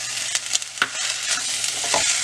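Pasta with ketchup is stirred in a hot pan, with a close sizzle and several clattering spoon scrapes early on, then a steady frying hiss, no voices.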